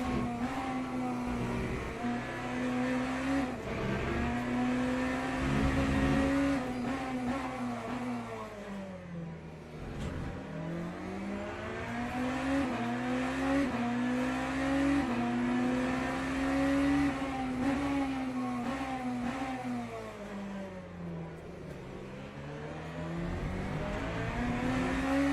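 Race car engine from the game Le Mans Ultimate revving up and down with repeated upshifts and downshifts, pitch climbing and dropping in cycles across a long stretch, loud and continuous with no talk.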